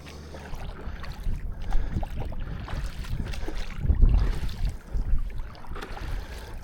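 A kneeling rider paddles an inflatable paddle board, with irregular splashing strokes and water swishes over a bed of wind and open-water noise, a louder surge midway.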